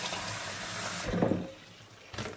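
Clean water is poured to rinse out the bag of a Sawyer Mini water filter, a steady close splashing rush that breaks off and is followed by a shorter second pour.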